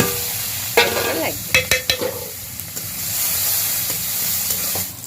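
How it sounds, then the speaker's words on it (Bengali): Onion, garlic and whole cumin seeds sizzle and fry in oil in a kadai for a village-style sweet pumpkin and chickpea dal curry, a steady hiss with sharp clinks and scrapes of stirring; a brief word is spoken. "আমার এই যে পেঁয়াজ আর রসুন ভাজা হয়ে গেছে, দেখুন।"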